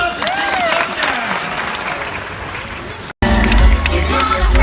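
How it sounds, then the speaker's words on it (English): An audience breaks into applause, dense sustained clapping close and loud with some whistles and voices mixed in, cut briefly before continuing as music starts underneath. "Give yourself a round of applause"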